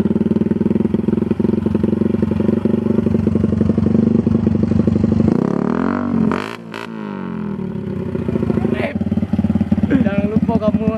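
A motorcycle revved hard at full throttle, its loud, steady engine drone dipping briefly partway through before surging again, with people talking nearby throughout.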